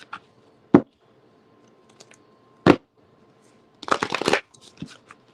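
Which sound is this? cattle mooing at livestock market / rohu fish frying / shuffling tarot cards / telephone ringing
shuffling tarot cards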